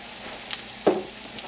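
Hot cooking oil sizzles steadily at close range, with one brief louder crackle or spatter about halfway through.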